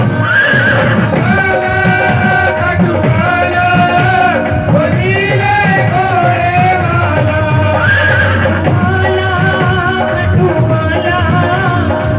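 A horse neighs and whinnies loudly in repeated bursts, the calls rising over a continuous devotional bhajan with music playing throughout, close and prominent for the full stretch.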